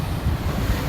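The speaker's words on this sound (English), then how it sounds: "the waves, they'll blow up and splash all the way up on here." Ocean waves surge and splash onto a rocky shoreline during a big storm at Forster, New South Wales, a steady rough wash of surf with gusty wind noise buffeting the microphone, close and fairly loud with no voices.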